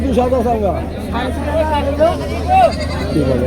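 Goats and sheep bleat repeatedly at a busy livestock market in Tangail, Bangladesh, with wavering calls rising over a steady hubbub of crowd chatter and nearby talk.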